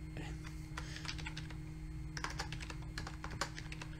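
Typing on a computer keyboard: quick, irregular clusters of sharp key clicks close by, fairly quiet over a low steady hum, with brief pauses between bursts.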